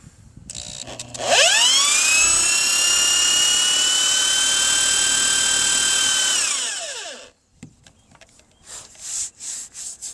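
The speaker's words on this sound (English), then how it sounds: "if it's going to spin out, it's going to heat up, make its own hole, evict a bunch of shavings" A drill spins a screw into Trex composite decking, a loud steady whine rising sharply at the start and winding down after about six seconds, followed by brief scraping and rustling sounds.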